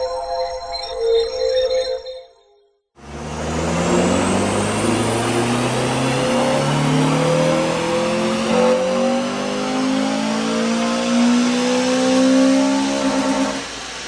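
A Honda Civic FN2 Type R with a Piper manifold, sports cat, M2 exhaust and HKS induction kit runs on a dyno: a short idle, a pause, then one long, loud climbing rev through the rpm range.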